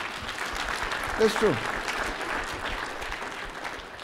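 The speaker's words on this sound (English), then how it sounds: "Let's clap for Jesus for that point." A church congregation claps for Jesus during a sermon, a steady wash of applause throughout with a voice speaking over it briefly.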